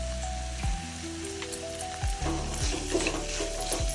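Shark meat sautéing in a pan for sura puttu, sizzling and crackling close up with a few stirring scrapes and clinks.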